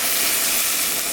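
Water poured into a hot pan of eggplant, potato and puti fish bursts into a loud, dense steaming hiss and sizzle, close and continuous for the whole moment.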